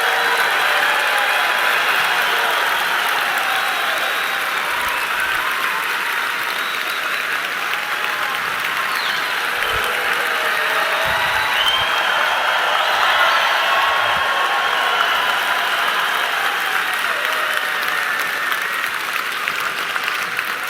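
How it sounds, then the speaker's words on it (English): A conference audience claps steadily and loudly for about twenty seconds, a dense, even wash of applause without cheering or speech. "Give him a nice round of applause."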